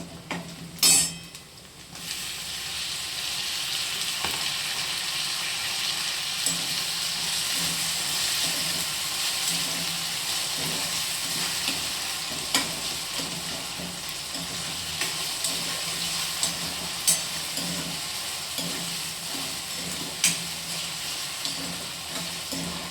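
Tomatoes fry and sizzle in a pan of browned onions for a cauliflower and green pea dish, a steady crackling hiss that holds for the whole stretch, with an occasional stir and clink near the start.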